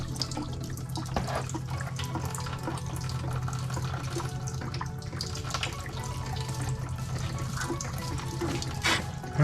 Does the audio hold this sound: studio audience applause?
no